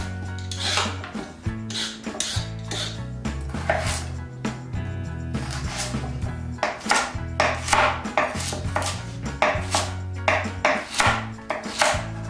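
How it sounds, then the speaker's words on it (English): Carrots being peeled with a wide peeler and then chopped on a board: a close, steady run of rasping strokes and sharp knife taps that repeat quickly, over a low tonal background. "Next, I'm gonna peel and chop up my carrots."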